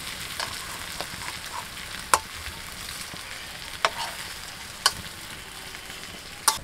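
Chicken chaap fries over a low flame in a kadai, giving a steady soft sizzle that runs throughout, with a few sharp clicks as the pieces are slowly turned.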